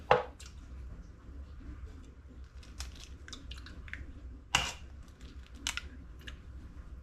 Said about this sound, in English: I'm going to crack all 4 of my eggs into this plastic whisking vessel here.